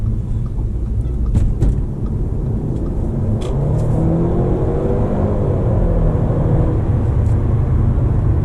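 A 2012 Audi A5 with the 2.0T engine revs up in a steady, loud low rumble that climbs gradually and holds, with faint higher ticks early on.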